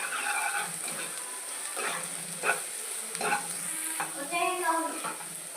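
Spiced fish curry base of turmeric, chili and salt frying in a pan, with a steady sizzle and repeated scraping stir strokes close by, no talking.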